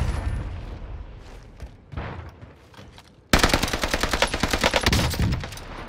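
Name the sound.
gunfire in video game, Rebirth Island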